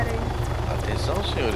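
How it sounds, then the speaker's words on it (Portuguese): An ArmA 3 helicopter whirs with a low rhythmic rotor hum while a person talks over it. "agora deixa eu assumir o controle do helicóptero."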